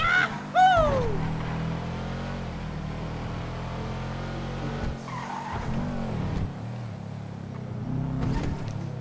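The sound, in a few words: car driving and parking in video game GTA V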